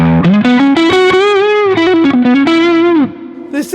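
Harley Benton TE-90 FLT electric guitar through distortion: a sustained, bending lead line with long ringing notes, loud and up front, ending abruptly with a brief quieter pause and a new attack.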